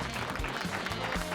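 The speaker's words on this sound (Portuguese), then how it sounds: "plateia virtual, aplausos!" Virtual audience applause sound effect for a running podcast, a brief, dense burst of clapping and crowd noise at moderate level.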